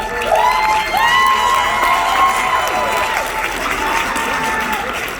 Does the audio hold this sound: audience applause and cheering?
yes